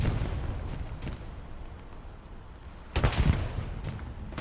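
A bombing run in the World War II shooter Hell Let Loose, on the Mortain map: scattered distant gunfire, then a cluster of heavy, booming explosions rumbling past the midpoint.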